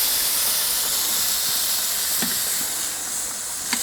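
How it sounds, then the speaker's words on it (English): Meat searing on a Kamado Joe grill, cooked for Mexican street tacos: a soft, steady sizzling hiss, faint and continuous, with a couple of brief sharp crackles near the end. "Give it a nice little sear."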